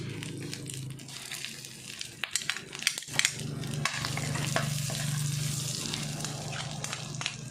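Garlic and shrimp stir-fry in a pan for pancit bihon, a steady close sizzle broken by a few sharp clatters and scrapes of stirring.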